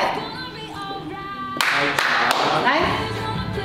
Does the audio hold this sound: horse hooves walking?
no